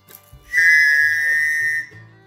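A small whistle pendant on the paracord lanyard of a Tops Knives Overlander 2 knife is blown once, giving a single loud, steady shrill tone that lasts over a second, with faint handling noise before and after.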